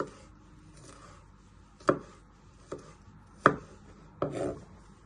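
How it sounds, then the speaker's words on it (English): A knife chops garlic cloves into small pieces on a cutting board, four or five sharp, separate strikes spaced through a quiet kitchen with a faint background hiss. "Then you want to slice it one way. Then you bring it back together and you just want to slice it into little pieces."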